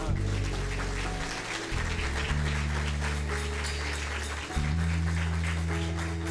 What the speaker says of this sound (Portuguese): Dá um aplauso ao Senhor, querido.